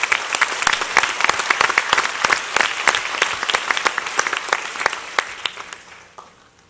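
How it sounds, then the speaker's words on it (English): Applause from an audience at a Board of Education meeting honoring STEM program students, dense steady clapping from many hands lasting several seconds before tapering off at the end. "So, round of applause for all of them,"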